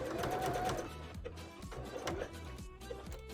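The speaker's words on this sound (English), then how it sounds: "I'm gonna sew it with a zigzag, just to be safe." A sewing machine runs a zigzag stitch through mesh fabric while a bra is being made, a close mechanical whir with a quick rhythmic needle beat that starts loud and then continues more quietly in short bursts.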